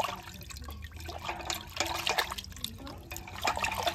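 Clay oil lamps being washed by hand in a basin of water, with steady close sloshing and splashing and light scattered knocks as the pieces are rubbed and moved about.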